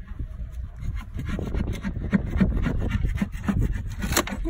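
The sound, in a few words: scraping teak deck off a sailboat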